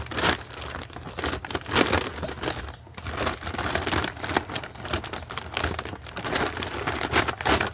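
Plastic packaging crinkles and rustles steadily up close as it is pulled open, with short sharp crackles scattered throughout.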